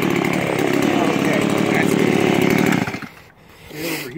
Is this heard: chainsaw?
yes